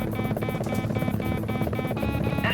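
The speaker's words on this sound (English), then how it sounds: "Enemy chopper just did a 90-degree turn in one frame." An enemy helicopter in the PlayStation game Gunship gives a dense, loud, continuous rotor drone and engine whine. It sits under layered game sound with no voice.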